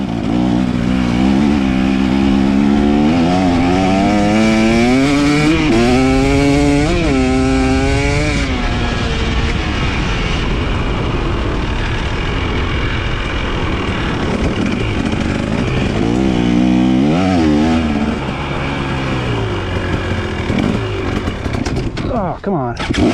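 An enduro motorcycle on a trail, its engine loud and close, rising and falling in pitch as it revs and shifts, with talk over the engine noise.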